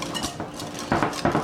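A utensil stirs crab cake mixture in a bowl, close scraping strokes with clinking against the bowl in a few quick bursts, with no talk.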